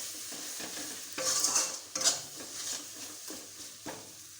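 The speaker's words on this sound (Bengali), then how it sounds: "মশলাটাকে এবার ভালো করে কষাতে হবে যতক্ষণ না মশলাটাকে ভালো করে তেল ছাড়ছে।" Spice paste with coriander, cumin powder and salt sautéed in oil, a soft sizzle broken by clinking, scraping stirs against the pan, one burst of brighter clatter near the start.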